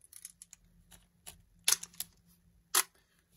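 A Nikon-mount camera lens, a Volna-3B, Jupiter-37A or M42 lens on an adapter, is turned counterclockwise on the body, giving several small mechanical clicks and ticks close by, with a sharper click near the end.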